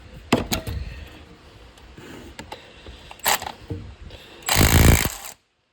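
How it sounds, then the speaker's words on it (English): A 3/8-inch cordless rattle gun with a 21mm stubby socket hammers at a 21mm harmonic balancer bolt on an FG Falcon XR6, giving several short loud rattling bursts and then a longer sustained impact burst close by. "my 3/8 rattle gun with a 21mm stubby socket on it and a fresh battery on most power mode can get these off"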